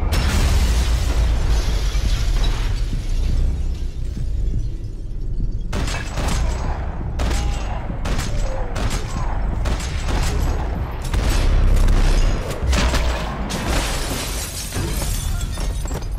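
A Max Payne 3 video game gunfight, with loud booming explosions, bursts of shattering glass and rapid gunshots packed densely together, the blasts pounding heavily in close succession.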